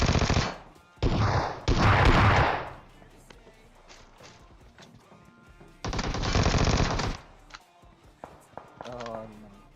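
Bursts of automatic gunfire from a cheap gun in PUBG Mobile, with two short volleys followed by a long sustained burst and a later one, loud and close, and quieter game sounds between them.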